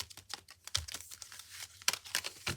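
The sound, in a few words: shuffling a deck of tarot cards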